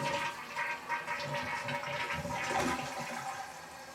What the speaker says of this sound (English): Next, test the function of the flush handle.